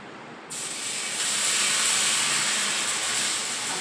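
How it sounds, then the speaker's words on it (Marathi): Potato paratha laid on a hot oiled tawa starts with a sudden hiss, then settles into a steady, fairly quiet sizzle of frying that swells slightly and holds throughout. "छान एक तवा पण छान तापला आहे त्याच्यात थोडं तेल घातलं आहे आता मी पहिला पराठा करते"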